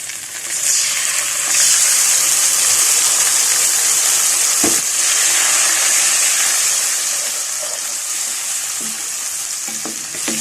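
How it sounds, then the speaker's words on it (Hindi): Tomato paste sizzles loudly in a pan over browned fried onions and garlic paste for besan masala bhindi, a steady dense frying hiss with occasional stirring clinks and scrapes, no voices. "अब इसमें मैं टमाटर का पेस्ट डालूंगी।"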